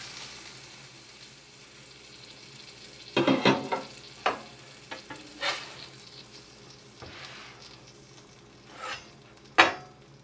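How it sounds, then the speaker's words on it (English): A buttered Cuban sandwich of ham, pork and pickles crisps in a hot pan, a soft steady sizzle broken by several sharp clinks and scrapes of a utensil against the pan. "You hear it sizzling and getting all hot and melty and tasty and delicious there."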